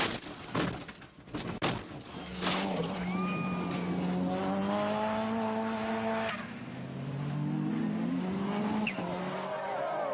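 A powerful rallycross car goes out of control and runs downhill onto grass, its engine wailing and sweeping up and down in pitch amid bursts of tire and impact noise, loud and near.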